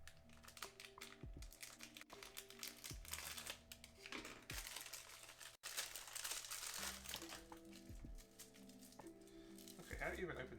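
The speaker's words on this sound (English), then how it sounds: "how do you even open this? Like 3 layers to the packaging here" Multi-layered packaging of cane sugar torn open by hand while baking, giving close crinkling and rustling with sharp tears and small taps, as a person talks throughout.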